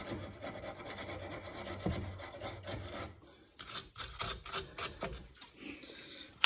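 Crust is scrubbed out of the bolt threads on an anti-sway bar link from a 2012 Hyundai Tucson, a close, rough rasping rub in quick uneven strokes that keeps going with short pauses.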